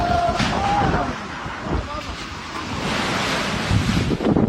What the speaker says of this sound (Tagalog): Umabot sa resort na ito sa Dipakulaw, Aurora ang mga alon habang nananalasa ang Super Typhoon Pepito.